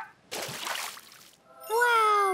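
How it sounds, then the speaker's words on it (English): Cartoon baby seal splashing in water, a short bright splash and slosh that fades before a high, sustained cartoon voice begins. "Wow, a baby seal!"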